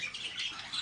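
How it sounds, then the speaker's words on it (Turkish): Many caged birds, more than twenty pairs kept together in an aviary, calling at once in a dense, steady chatter of chirps and squawks, fairly loud and continuous with no talking. "Yani burada şu an 20 takımın üzerinde kuş var."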